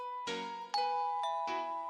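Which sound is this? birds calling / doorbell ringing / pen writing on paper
doorbell ringing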